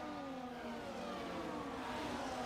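Steady, loud engine drone of the Mercedes safety car leading the field around the track in F1 24, a continuous whirring roar holding a near-constant pitch with no talk.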